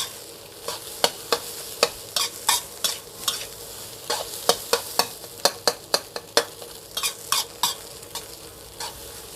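Rice stir-fried in a pan: a constant sizzle is broken by a regular series of sharp scraping and tossing strokes from the utensil, about two per second, loud and close with no talk.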